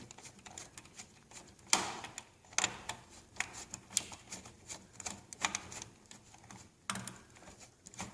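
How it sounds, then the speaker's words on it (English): A screwdriver loosening a Phillips screw inside an Epson P600 printer gives sharp, close mechanical clicks and taps at an irregular pace, with a few louder snaps among quieter ticks. "Put your screwdriver in there, and we're going to loosen that screw."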